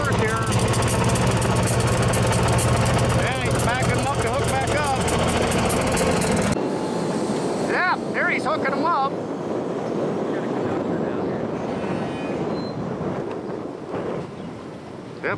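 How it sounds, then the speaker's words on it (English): The heavy diesel engine of an EJ&E SD38 locomotive rumbles steadily up close while backing up, then drops away to a lower, distant throb with wind and people talking over it. "the old EJ&E SD38. Backing up now."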